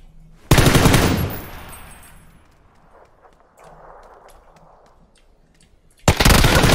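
A Kar98k bolt-action rifle fires in a first-person shooter, two loud sharp cracks, one near the start and one at the end, with a long echoing tail after the first and quieter game ambience between them.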